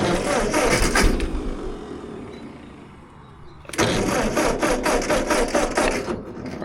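A 1947 Ford 8N tractor cranks with a rattling, chugging starter, falls quiet for a moment, then cranks again with rapid rhythmic churning beats close by.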